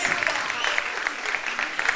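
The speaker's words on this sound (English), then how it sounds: "give the ladies a huge round of applause" Crowd at a live televised beauty pageant claps in a continuous, fairly loud round of applause with bright, dense hand claps, and talk blends faintly underneath.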